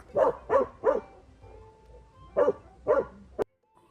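A dog barks in two quick bursts of three, short sharp woofs close by, separated by a brief pause.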